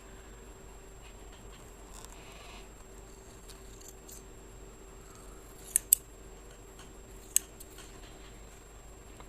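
Scissors snip short hair returns, a few faint, quick, close cuts falling in a short cluster and then one lone snip, over a quiet room hum with no talking.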